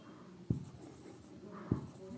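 Writing on a board during an engineering mechanics lecture, faint scratchy strokes with two sharp taps under a voice speaking.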